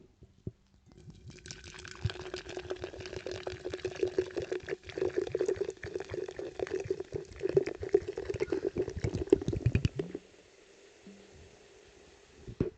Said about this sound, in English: I'm going to pour this right now.